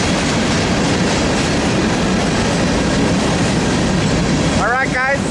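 A manifest freight train bound for Yermo passes at Daggett with a continuous loud roar of rolling cars and wheel clatter, then a brief rising wheel squeal near the end.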